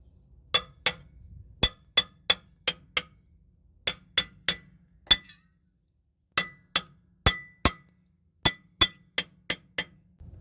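A hammer repeatedly strikes a socket to drive a pinion yoke seal into a Freightliner Cascadia truck differential, giving sharp metallic clinks in quick bursts of several blows with short pauses between, loud and close.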